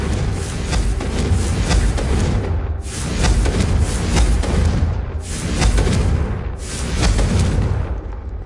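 Repeated booming blasts of the Confringo fire spell in the Hogwarts wizarding video game, about four loud heavy bursts roughly every two seconds, each with a rumbling tail that fades before the next.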